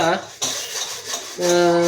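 A cooking pot is taken out and handled in a home kitchen, with a few clanks of metal pot and utensil against other cookware. The sounds are close and fairly loud, and there is no speech.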